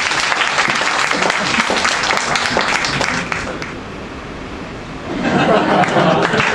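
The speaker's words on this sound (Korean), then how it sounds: "박수 부탁드리겠습니다." Audience applause at an experimental arts festival sponsorship evening during a magic performance, loud sustained clapping that dips briefly midway and then swells again, with some crowd chatter.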